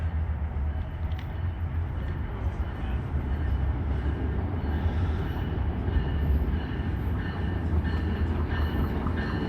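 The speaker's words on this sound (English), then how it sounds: "Here comes the eastbound train," An eastbound bi-level Raritan Valley Line passenger train arrives at a New Jersey station, rumbling steadily nearby, a low continuous roll of rail noise with faint wheel clatter throughout, and someone speaking at moments over it.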